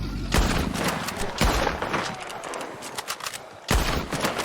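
Shotgun fire in a video game, three heavy booming blasts spaced about a second or two apart, loud and close, with faint background game noise between shots.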